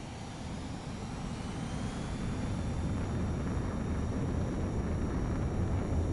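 A fighter jet takes off in the video game Ace Combat 7, its engine a steady, loud roar that swells gradually and holds without a break, with no voices over it.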